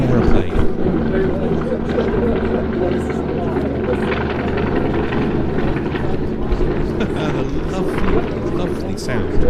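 A big aircraft powered by three 775-horsepower Enmasa Beta B4 engines, Spanish license-built Wright Cyclones, flying slowly along an air-display line: a steady, throbbing radial-engine drone, with a commentator talking over it.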